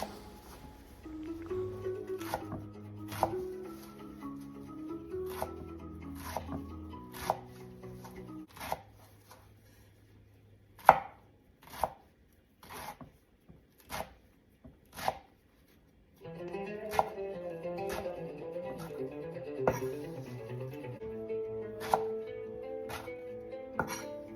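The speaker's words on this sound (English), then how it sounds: "I'm chopping the oregano leaves right now" A knife chopping oregano leaves on a board, sharp evenly spaced taps in bursts and pauses over soft background music.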